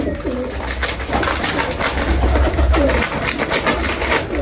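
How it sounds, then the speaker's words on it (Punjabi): A pigeon coos in repeated soft, low throaty calls, fairly close, over a steady background hum with faint voices. "ਕਬੂਤਰ ਹੈ"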